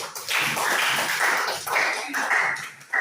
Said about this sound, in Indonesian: tepuk tangan dulu dong untuk kalian